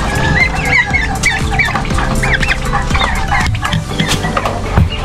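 Turkey chicks and chickens chirp, cheep and squawk in a crowded coop. The busy, overlapping calls are close and loud, with a faint voice in the background.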